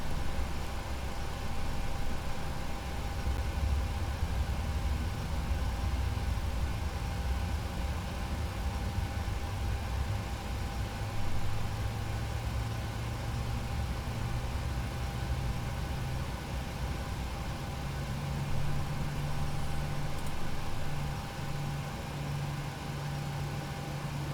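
Boeing 737 jet engine spooling up during start in the PMDG flight simulator, a steady droning rumble with a slowly rising low tone under constant cockpit hiss, continuous and moderately quiet throughout.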